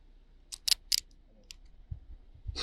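A police officer loosens a pair of handcuffs with a few sharp metallic ratcheting clicks in quick succession, close and fairly faint against a quiet background, followed by soft rustling.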